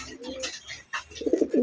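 Sky-blue Raj Golla pigeons, a male and female pair, coo in soft low bursts, with a louder run of throaty coos toward the end, close by.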